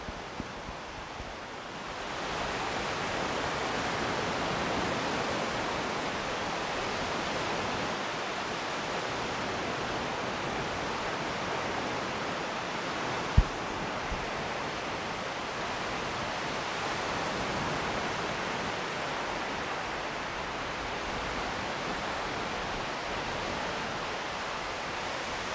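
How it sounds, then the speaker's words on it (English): Steady wash of ocean surf rolls continuously onto the shore at Henderson Beach State Park, Destin, Florida, a broad hissing roar with no voices. "You guys hear the waves?"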